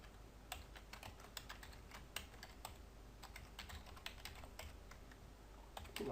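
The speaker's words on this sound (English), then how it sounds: "Put my password in." Quiet keystrokes on a computer keyboard as a password is typed, an irregular run of light clicks with short pauses between bursts, close by and alone with no talking.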